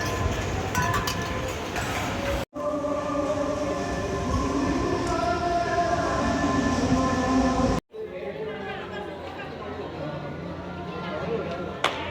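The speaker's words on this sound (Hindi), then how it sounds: "आज मेरी ट्रेन है फ्रॉम अमृतसर टू दिल्ली." Train carrying passengers from Amritsar to Delhi, a steady rolling rumble with rattling carriage noise and faint clinks throughout, broken by two brief dropouts, with a voice talking over it.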